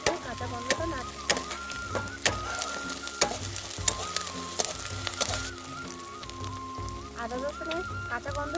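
Ginger garlic paste frying in a pan while cooking a matar paneer curry, a steady sizzle with clinks of stirring; a rooster crows and fowl cluck in the background.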